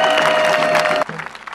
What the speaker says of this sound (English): So you should give yourself a round of applause.